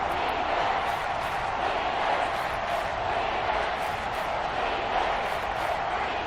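Stadium crowd at an NFL game on third down, a dense, loud, continuous roar of voices holding steady throughout, with no distinct speech above it.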